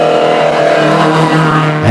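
Lotus Plus 2 Elan race car at a hillclimb event, engine loud and close with steady harmonic drone, pitch holding then shifting near the end as it works through corners.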